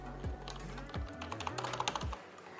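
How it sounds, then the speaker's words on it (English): Fingers type on a computer keyboard in a quick burst of close clicks, a dozen or so keystrokes landing in an uneven rhythm before stopping. "So I'm going to type here"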